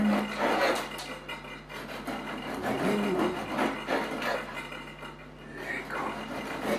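A knife saws through a warm, freshly baked low-carb loaf with a crisp crust, giving close, rough rasping strokes in an uneven rhythm while someone speaks quietly.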